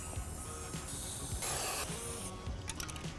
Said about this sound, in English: And we're going to start with the white can of spray paint.